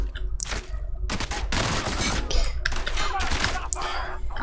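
Gunfire in the shooter video game The Outer Worlds: bursts of rapid shots with crackling impacts, loud and close over a steady low background, with a couple of short gaps between volleys.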